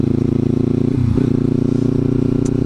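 Motorcycle engine droning steadily at high revs while riding at about 45 mph, with a brief dip and change in pitch partway through as the rider tries to shift gears, then holding its loud, constant hum.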